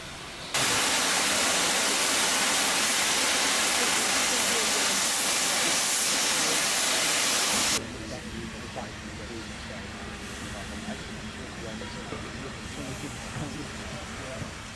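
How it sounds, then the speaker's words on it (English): Steam locomotives at the Severn Valley Railway winter gala heading toward Bridgnorth: a loud, sustained blast of venting steam hiss for about seven seconds, then dropping abruptly to a quieter, steady rumble of engine and track noise. "a lot of locomotives started to head back up to Bridgenorth"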